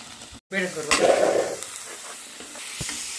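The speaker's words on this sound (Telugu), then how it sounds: "దీనైతే బాగా బ్రౌన్ కలర్ వచ్చేదాకా ఫ్రై చేసుకోవాలి" Masala paste sizzles and hisses in a hot pan as it is stirred, a close, steady frying crackle that swells after a brief gap and then settles into a softer sizzle.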